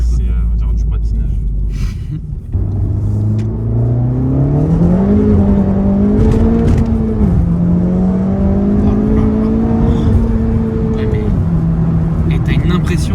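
A Honda Civic Type R fitted with a Remus exhaust and a stage 1 tune accelerates hard from inside the cabin, its loud engine note climbing through the gears with a brief dip at a shift, and voices are heard over it.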